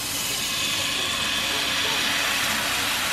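Liquid Just Egg plant-based egg cooking in a hot pan gives a loud, continuous sizzling hiss that runs steadily from start to end.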